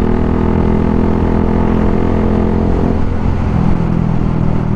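A steady, loud Suzuki Gixxer 155 Fi motorcycle engine drone with an Akrapovic full-system exhaust, held at high revs, continuous and close, with no voices.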